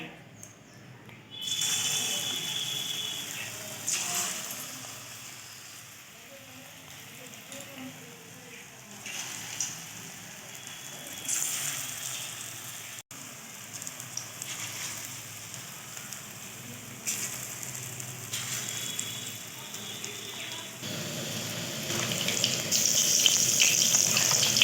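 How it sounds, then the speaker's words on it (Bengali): Jackfruit fritters frying in hot mustard oil, a steady broadband sizzle and crackle running nearly unbroken throughout, close and fairly loud, swelling slightly toward the end. "তেলটা আমার গরম হয়ে গেছে। এবার এর মধ্যে আমি এটা বড়ার আকারে ভেজে নেব।"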